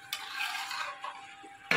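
Chicken being stirred in a pot, with a soft continuous scraping and clinking of a utensil against the pot, brief sharper knocks at the start and end, close by and fairly quiet, no voices.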